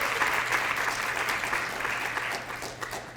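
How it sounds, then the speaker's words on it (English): A crowd applauds the ambassadors at a Best Buddies ambassador showcase, continuous full-room clapping, loud and steady throughout, without voices standing out. "can we just do one last round of applause for all of our amazing ambassadors who've given speeches so far?"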